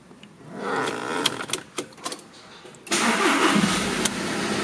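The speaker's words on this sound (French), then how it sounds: "Mon moteur est en marche." Car engine cranking with several sharp starter bursts before catching and settling into a steady running idle, close and fairly loud, no talking.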